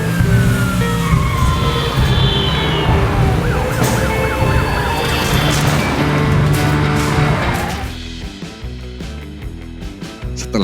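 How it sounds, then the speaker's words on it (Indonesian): A wailing police siren sounds behind a car in a chase, loud and continuous against dense music and vehicle noise, dropping away toward the end. "Suara sirene polisi mulai terdengar dari belakang mobil Attila."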